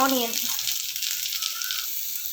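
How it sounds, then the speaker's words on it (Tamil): Mustard seeds, fennel, slit green chili and onion frying in hot oil for egg rice, a steady close sizzle running throughout, with a brief voice at the very start. "ஆனியன் நல்லா பொன்னிறம் ஆகிற அளவுக்கு வறுக்கணும்"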